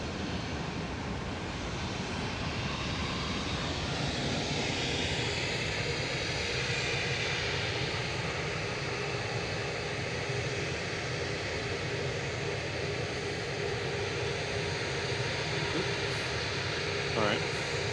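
An Emirates Airbus A380 jet departs from Manchester Airport, a broad, steady roar of engines that holds loud and even throughout, with faint voices beneath.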